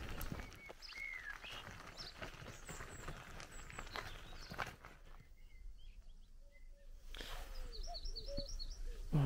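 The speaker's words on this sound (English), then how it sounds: "there's definitely a cuckoo quite close" A cuckoo calls in the Cornish countryside: a few soft, low, hooting notes appear late in the clip against a busy outdoor background of wind and other birdsong.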